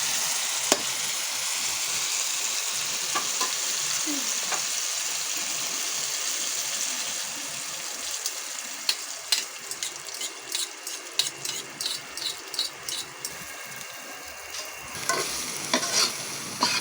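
Food fries in a pan with a continuous loud sizzle while it is stirred, and scraping utensil strokes grow into a rapid, rhythmic run of clicks near the end.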